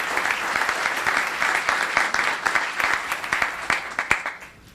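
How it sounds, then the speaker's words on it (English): An audience at a Los Gatos town council meeting breaks into sustained, dense applause that holds steady and then starts to fade near the end. "Let's give a big round of applause to Tristan."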